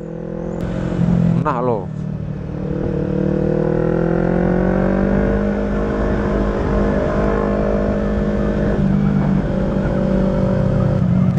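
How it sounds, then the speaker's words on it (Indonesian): A very large truck drives along with a steady engine drone that rises and shifts slightly in pitch, heard from close by, while someone briefly speaks over it. "enak banget ini truk, kiri kanan padahal ukurannya gede banget loh"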